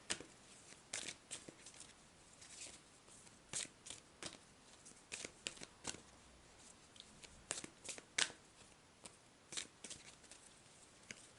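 Sacred Geometry oracle cards are shuffled by hand, giving soft, irregular papery riffles and slaps, close but quiet, with no talking.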